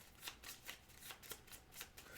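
Pathfinder Adventure Card Game cards are riffled and shuffled in quick repeated bursts, close up and crisp, about half a dozen rustling flicks in steady rhythm.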